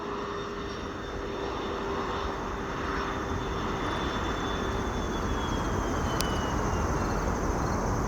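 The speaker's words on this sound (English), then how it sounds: "Lufthansa Flight 431, it's our 747-8 heading back to Frankfurt" A Lufthansa Boeing 747-8 jet airliner at Chicago O'Hare, bound for Frankfurt, roars steadily at a distance as a broad, even engine rumble that holds for the whole stretch, with faint insects chirping beneath it.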